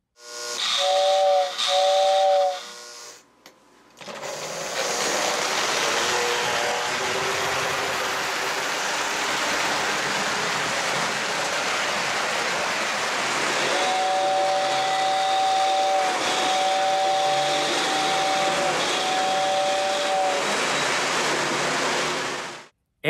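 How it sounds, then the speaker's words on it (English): A 1950s Lionel model train whistling tender blows short steam-whistle hoots, then a long hissing rush of steam, with sustained whistle tones returning over the hiss near the end. "this 1964 is equipped with the 1950 whistling tender, which delivers the exact sound I'm talking about"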